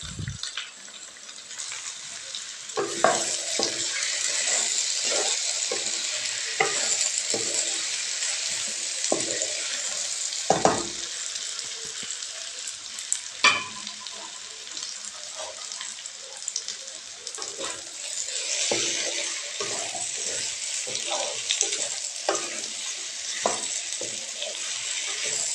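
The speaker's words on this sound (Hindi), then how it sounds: "अब इनको हम ज़रा थोड़ी देर के लिए भूनेंगे ऑयल के अंदर।" Pieces of taro root and potato fry in oil with a steady sizzle. Occasional clinks and scrapes of stirring break through, loud and close, with no talking.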